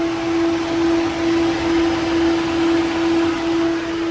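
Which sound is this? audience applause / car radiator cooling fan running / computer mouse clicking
car radiator cooling fan running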